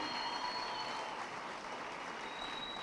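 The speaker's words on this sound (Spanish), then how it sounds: "pido un fuerte aplauso a nuestra ministra por esta" An audience at a national urban agriculture congress claps steadily, a dense, even wash of applause that holds for a few seconds.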